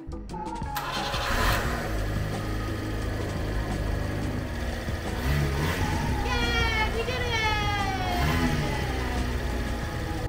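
A Kei van's engine cranks briefly and catches, then settles into a steady idle with a few light revs, heard under continuous talk and some background chatter.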